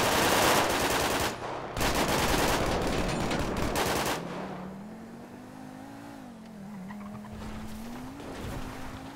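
Dense bursts of rapid gunfire crackle loudly through the opening four seconds of a GTA V FiveM roleplay chase, then give way to a steady car engine droning and shifting pitch with no talk.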